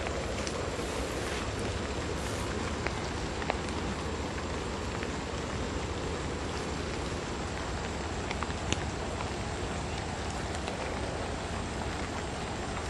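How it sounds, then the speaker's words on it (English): Light rain falls steadily after a storm over flooded ground with muddy water, a faint, even patter with occasional soft drips and no voices. "the rain's almost stopped. It's very light now."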